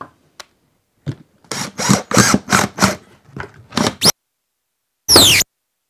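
Short bursts of a cordless drill or driver sinking screws into a wooden swarm trap, several close, loud whirs in quick succession followed by a pause and one final rising spin.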